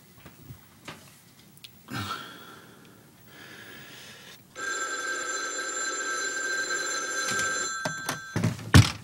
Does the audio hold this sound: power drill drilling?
no